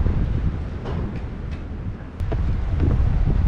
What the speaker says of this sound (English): Breezy today, very breezy.